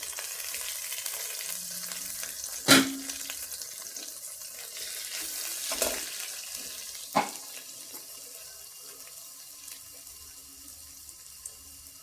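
Vegetables and egg stir-fried in oil for egg fried rice give a steady, soft sizzling hiss, broken by a few sharp clinks of a utensil against the pan; no one speaks.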